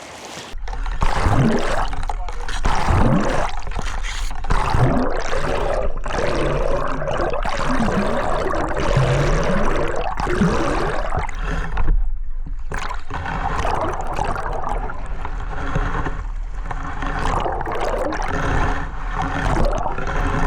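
An Insta360 Ace Pro 2 action camera in a Telesin waterproof case is plunged into a river, giving a loud, continuous underwater churn of rushing, bubbling water with muffled thumps and surges throughout.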